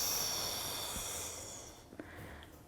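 Slow, soft breath exhalation during a Pilates exercise with a resistance band, a gentle airy hiss that gradually fades, recorded quietly with no talking.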